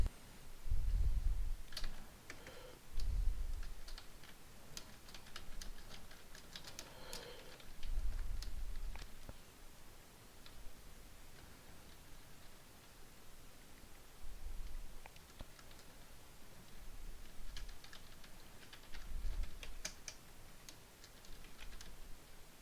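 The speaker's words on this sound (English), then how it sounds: "So first I'm going to type in my message." Someone types on a computer keyboard, giving quiet, close clicking in uneven bursts with a few brief pauses and some low bumps.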